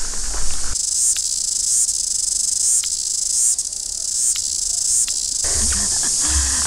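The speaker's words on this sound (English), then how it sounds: "I don't know if you can hear me over these cicada bugs." Loud, shrill buzzing of cicadas in a rainforest, a close, continuous drone that pulses slightly and dominates everything else.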